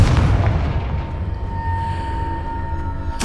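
A Confringo fire-blast spell cast in the Hogwarts Legacy video game, a loud booming explosive burst with a rumbling low-end tail, sustained over several seconds amid dense game effects.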